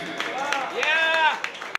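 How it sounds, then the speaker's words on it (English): Audience applause mixed with cheering voices, a steady wash of clapping with a few sharper claps standing out near the end. "Keep the applause going"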